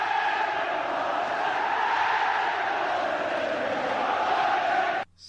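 Celtic supporters roar and chant as a massed stadium crowd after a deserved goal away to Celta Vigo, a loud, sustained wall of voices running steadily before cutting off abruptly at the end.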